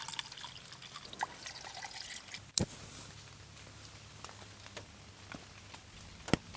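Two cups of water pour into a pot for beans and rice at a backpacking stove, a soft steady trickle with a few sharp clinks, faint and close.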